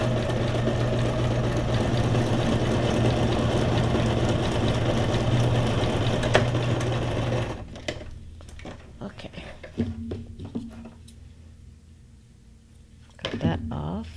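A sewing machine stitches steadily through a small paper file folder, a loud continuous whir that cuts off halfway, leaving quieter handling noises and light clicks.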